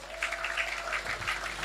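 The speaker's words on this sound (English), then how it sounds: "can you please applaud him?" An audience at the commissioning ceremony of the Built Environment Hub, a former water board compound, applauds Godwin Obaseki with a steady burst of clapping that holds at an even level throughout.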